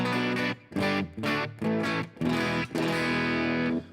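Kiesel electric guitar played through a high-gain distorted tone, a series of loud chugging chords and riffs with short gaps between them, sustained harmonics ringing near and alone with no talking.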